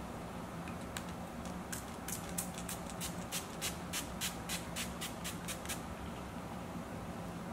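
A bottle of gym-proof, sweat-resistant, anti-shine makeup setting spray is shaken and sprayed, giving a quick run of sharp rattling clicks and hissy bursts over several seconds, close to the ear, with no speech.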